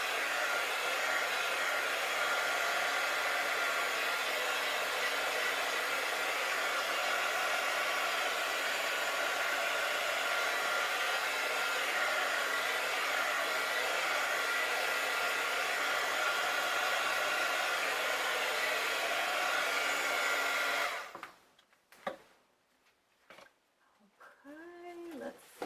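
A heat tool blows hot air over a mixed media art page in a loud, steady whoosh for about twenty seconds, then cuts off, leaving faint rustles and a few brief sounds.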